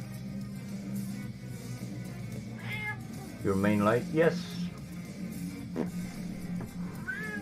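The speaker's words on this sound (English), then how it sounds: "my cat decided to come and argue with me tonight" A cat meows several times in a short series of drawn-out, argumentative cries, heard close by over a steady low hum while a person speaks briefly.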